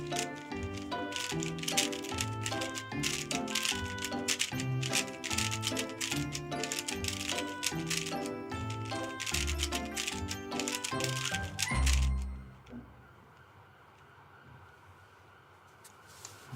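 Rapid, continuous clicking and clattering of a Rubik's cube being turned at speed during a blindfolded solve on a talent show stage, steady for about twelve seconds before stopping abruptly, leaving a quiet room hum.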